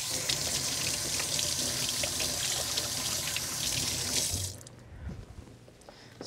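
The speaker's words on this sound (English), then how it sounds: "Just wash my hands." A kitchen tap runs loudly and steadily while hands are washed under the stream, then shuts off, leaving faint wet dribbles and small handling noises.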